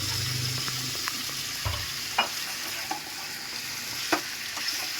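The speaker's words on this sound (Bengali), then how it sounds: "এবার এই আধ ঘন্টা ম্যারিনেট করা ছিল মাংসটা আমি এবারে পেঁয়াজে দিয়ে দিলাম।" Marinated chicken sizzles in a pan with fried onions for a chicken moglai recipe, a steady hiss broken by occasional spoon scrapes and clinks, close and fairly soft with no talk.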